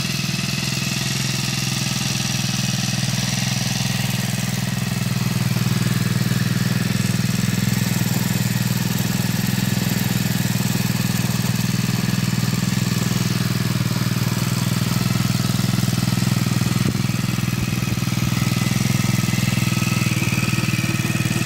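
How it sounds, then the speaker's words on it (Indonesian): A 4-stroke grass trimmer engine runs steadily with a constant droning hum, loud and close, holding an even pitch throughout with no voices over it. "tinggal kita coba saja untuk starter mesin ini apakah sudah bisa menyala atau belum."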